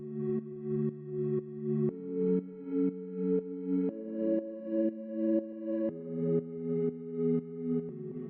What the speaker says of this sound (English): The next thing we have here are these chords which sound like this.